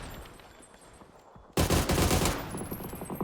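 Heavy gunfire from a Panzer tank in a competitive video game league match, a quiet rumble suddenly giving way to a loud, sustained burst of rapid shots and blasts.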